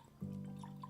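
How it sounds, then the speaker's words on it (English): Irish whiskey poured from a bottle into a glass, a brief gurgling trickle starting sharply and running steadily for under a second, close and quiet. "I'll see if I can show off the pour."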